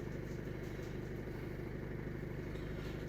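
A Ford Fusion with a fault causing black smoke and no power idles steadily, a low, even engine rumble with a faint rhythmic clatter, close and continuous, with no talking.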